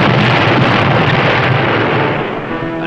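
A torpedo hits an enemy ship in a heavy, loud explosion with a continuous roaring rumble that stays dense and sustained throughout.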